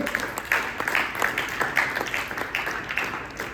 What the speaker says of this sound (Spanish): ¿Podemos dar un aplauso al Señor?